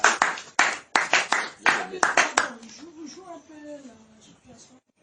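A gathering breaks into several loud bursts of group clapping in quick succession, fading after a couple of seconds into a lone voice and soft, whimpering sounds.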